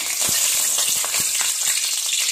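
Ground green masala for chicken sizzles loudly in hot oil in a pan, a dense continuous frying hiss with soft stirring taps scattered through it.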